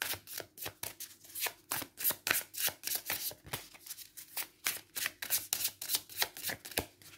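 Tarot cards are shuffled and handled in a rapid run of crisp, papery riffles and slaps, close and fairly loud, repeating steadily with no voices.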